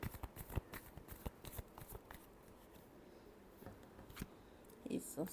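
Tarot cards are shuffled in quick, soft riffling bursts, close and quiet, with brief pauses and a faint rustle near the end.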